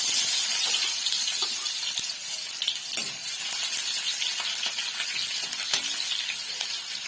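Chopped onion sizzling in hot oil in a pan while cooking chicken, a close, steady hiss with crackles and small pops, heard alone.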